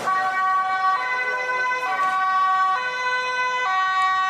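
Police car sirens wail close by in a steady, loud, repeating rise-and-fall pattern that continues without pause and has no talking over it.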